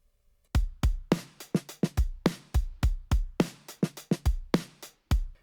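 A drum kit from the Addictive Drums plugin plays a steady groove of punchy kick and snare hits with crisp cymbals, each hit trailing into a roomy reverb with a slightly lo-fi character.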